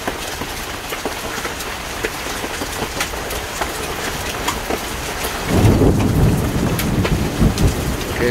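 Heavy rain pours steadily in a Swiss thunderstorm while a deep roll of thunder rumbles in loudly about halfway through and keeps growling.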